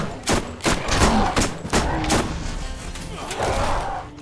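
Rapid bursts of SMG fire in the Borderlands video game, sharp repeated shots in several quick volleys over about four seconds, loud and close, with a voice briefly heard underneath.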